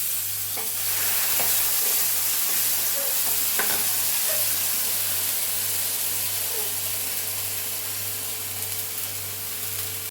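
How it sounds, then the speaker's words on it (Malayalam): Ground coconut paste sizzles in hot oil for moru curry, a steady loud frying hiss with a few faint clicks of stirring throughout. "അരപ്പ് ഞാനൊന്ന് മൂപ്പിക്കും"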